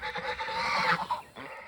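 Several geese honk and cackle together nearby in an overlapping, noisy chorus that rises and then briefly dips.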